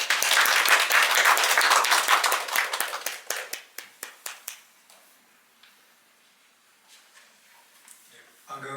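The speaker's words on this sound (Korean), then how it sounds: "큰 박수로 맞아주시기 바랍니다." Audience applause at a tax policy forum hosted by a law firm, greeting the speaker giving the welcome address; dense clapping fills the first three seconds, thins into scattered claps and fades out, then a voice begins at the end.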